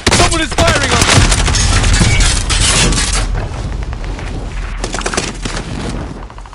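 Video game battle gunfire: dense, loud bursts of shots and booms rolling continuously, with rapid volleys easing slightly partway through before flaring again, and faint voices mixed under the shooting.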